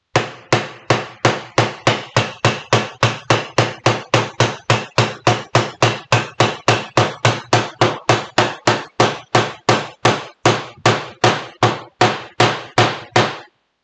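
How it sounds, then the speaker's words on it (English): A hammer striking nails into wood, roughly forty sharp evenly spaced blows at a quick steady rhythm, loud and close, each impact ringing briefly before the next, with no talk. "you can see how I've missed the nail and just hit the wood"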